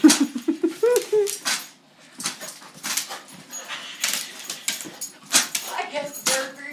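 A dog whimpers and sniffs eagerly while pushing its head into a food bowl at dinnertime, with short high whines early on and scattered snuffling and bowl-clatter bursts close to the microphone.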